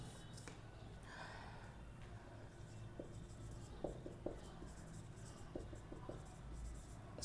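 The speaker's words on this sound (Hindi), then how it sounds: "यहाँ पे मैं लिख देता हूँ," Writing on a board during a mathematics lesson on linear equations: faint scratching and light tapping strokes under quiet room noise, with a few soft breaths and no clear talk.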